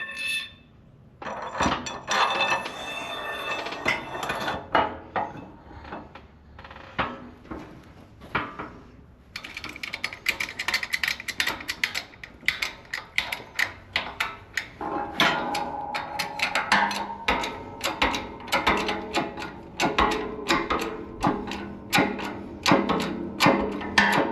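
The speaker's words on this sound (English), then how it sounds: "you also have a little retainer on there, and I'm going to press that one on as well." Press seating a bearing retainer onto a 1966 Ford Mustang rear axle shaft, with a series of sharp metallic clanks and knocks that become faster and more regular toward the end.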